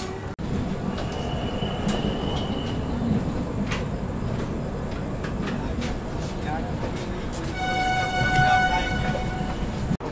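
Swatantra Senani Express pulling out of New Delhi railway station, a continuous rumble of rolling wheels and carriages with sharp clanks, a brief squeal early on and a sustained tonal squeal or horn near the end, heard from on board.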